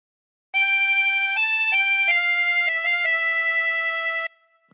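A 24-hole tremolo harmonica plays a short phrase of a song as a few sustained, bright reedy notes that step between pitches, close and clear, ending abruptly into silence.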